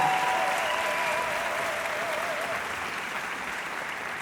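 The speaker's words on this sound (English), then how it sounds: "Give Maestro a round of applause as he leaves" Sustained applause from a concert hall audience for a departing conductor, a dense steady wash of clapping that fades slightly toward the end, with a faint sustained tone underneath.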